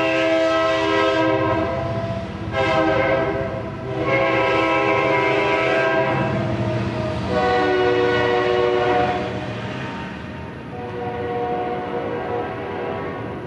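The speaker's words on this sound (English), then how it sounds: "Here goes the train." A train passing close by at night near a house, its horn sounding loud and sustained in several long blasts over the rumble of the rail cars, with no talk.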